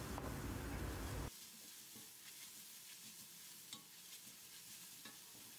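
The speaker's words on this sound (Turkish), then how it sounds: "Gerekirse bir miktar daha sıvı yağ ekleyerek kavurma işlemine devam edelim." Grated carrot sautéing in oil for a chicken vermicelli soup: a brief loud burst of sizzling, then a quieter steady fry with faint scraping stirs.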